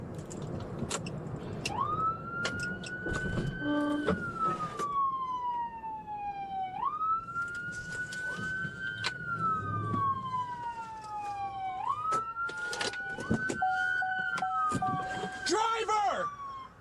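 A police car siren wails during a traffic stop, sweeping up and down in repeated long cycles, then switching to a fast yelp near the end, heard clearly over background talk.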